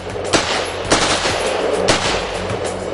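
A soldier fires a rifle during military shooting practice: several sharp, loud shots ring out at roughly one-second intervals over a constant background din.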